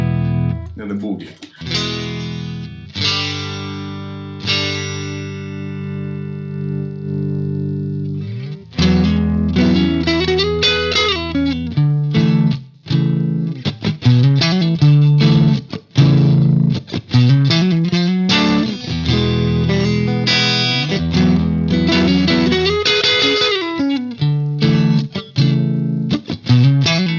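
An electric guitar plays through a Mesa/Boogie Mark V amplifier with its two 6L6 power tubes, opening with sustained chords and then moving into loud, driven, choppy riffing with distortion and ringing notes, close and prominent.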